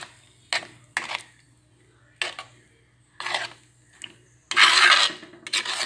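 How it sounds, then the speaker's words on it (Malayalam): Curd being stirred into mango pulissery curry in a pan: close, irregular bursts of spoon scraping and rubbing against the pan, about six strokes separated by short pauses. "തൈര് ചേർത്തിട്ട് നമുക്ക് നന്നായിട്ടൊന്ന് ഇളക്കി എടുക്കാം."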